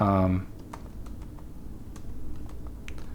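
Light tapping on a computer keyboard while building a Squarespace contact form page, scattered keystrokes at a moderate pace, close and soft after a brief bit of speech at the start.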